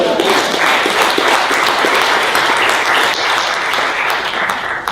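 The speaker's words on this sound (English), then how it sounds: "Give yourselves a round of applause" At a university presidential lecture, listeners applaud loudly after a poem reading, a dense, continuous clatter of many hands with a faint murmur of voices underneath.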